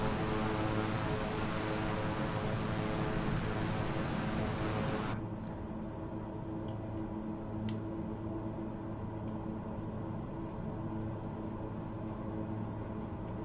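A King Air turboprop in a flight simulator drones steadily through a low flyby over a lake, loud and broadband at first, then dropping abruptly to a quieter, duller engine hum about five seconds in, with no talk.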